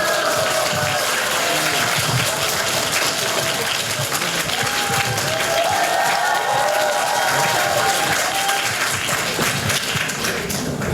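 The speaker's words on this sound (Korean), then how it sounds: "큰 박수로 맞이해 주시기 바랍니다" Audience at a book talk concert giving a big round of applause to welcome the host, a steady, full crowd clapping with scattered cheers. It carries on loud and unbroken for about ten seconds.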